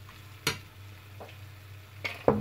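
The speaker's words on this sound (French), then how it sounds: "Et on mélange." A stir-fry with oyster sauce and fish sauce sizzles steadily in a pan while a utensil scrapes and stirs it in a few sharp strokes, close and alone.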